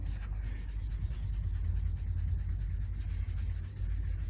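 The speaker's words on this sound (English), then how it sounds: "Just take the top off this primer, scuff it up, just to smooth everything out." An 800 grit sanding pad scuffs primer on a BMW X1 body panel, producing a continuous close rubbing hiss with a low, even rumble and no pauses or talk.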